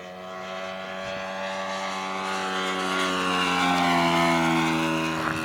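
A radio-controlled F4U Corsair semi-scale model plane with an old O.S. 61 four-stroke engine drones steadily in flight, its buzzing note rising and falling gently in pitch as it passes, loud and continuous throughout.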